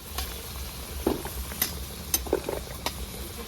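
Potatoes fry in hot oil for a home-cooked chicken dish, a continuous close sizzle punctuated by several crisp scraping and stirring knocks from a spatula.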